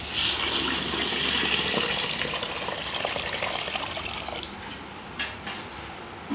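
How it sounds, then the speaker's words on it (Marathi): Water gushes steadily into a container of wheat grains being soaked, a continuous splashing fill that lasts several seconds. The pour stays close and fairly loud, easing slightly toward the end with a few small clinks. "या डब्यामध्ये आता आपण गहू हा असा टाकून घ्यायचा आहे आणि आपल्याला ह्याला आता पाणी टाकून भिजवायचं आहे"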